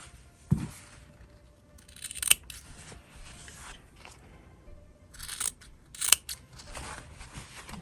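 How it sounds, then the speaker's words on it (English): Scissors cut through fabric with a few separate crisp snips and crunchy slices, spaced several seconds apart, close to the microphone in an otherwise quiet room. "So I'm using this to cut the fabric."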